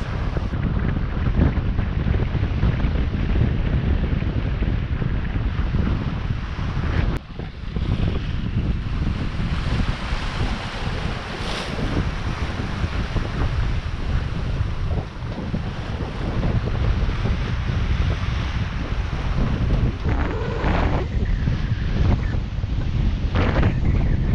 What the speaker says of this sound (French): 27 nœuds de vent.